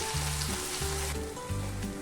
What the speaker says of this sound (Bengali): এবার আমি মশলাগুলোকে ভালোভাবে কষাবো।